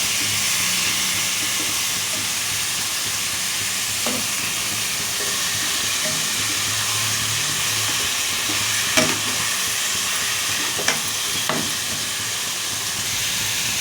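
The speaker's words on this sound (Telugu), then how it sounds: "వేసుకొని ఒకసారి ఇలా కలుపుకోండి." Half a kilo of mutton frying in a pan over onions gives a steady, loud sizzle, with a few sharp clinks and scrapes of stirring toward the end.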